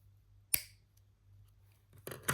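Scissors snip through a rhinestone chain while velvet-covered craft decor is trimmed, one sharp close cut followed by a second crisp snip near the end, with quiet room hum between.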